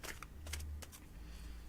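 A large tarot card deck is shuffled close by in a few soft, brief flicks and slides, faint over a low hum.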